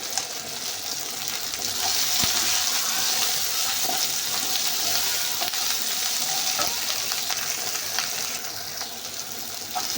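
Basmati rice fries in a pan with oil and browned onions for a chicken thokku biryani, giving a steady close sizzle that holds throughout, with occasional faint scrapes of stirring.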